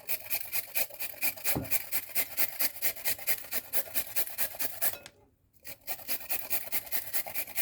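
Carrots are grated by hand in a home kitchen, with steady rhythmic rasping strokes that repeat evenly and up close, pausing briefly near the end before resuming.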